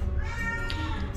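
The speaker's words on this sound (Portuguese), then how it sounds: "Minha gata tá reclamando ali de fundo." A pet cat meows in complaint in the background of a room, a faint, drawn-out cry over a steady low hum.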